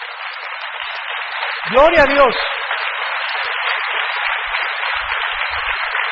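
A church congregation applauds during a sermon. The clapping is steady and band-limited, with a brief spoken exclamation partway through.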